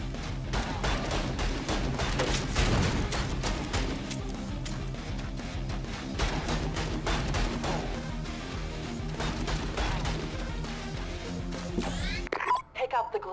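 A llama firing two weapons at once in the Vicious Attack Llama Apocalypse video game, a dense barrage of rapid repeated shots and impacts, loud and continuous, cutting off near the end.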